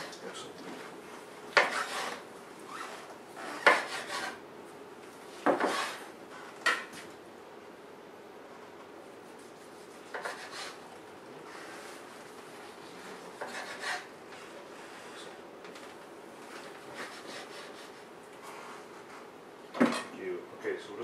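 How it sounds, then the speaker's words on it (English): A knife cuts an orange into cubes on a board, producing sparse, irregular scraping chops spread over a quiet room tone. "So just cut that into chunks."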